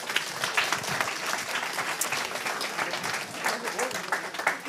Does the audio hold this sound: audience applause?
yes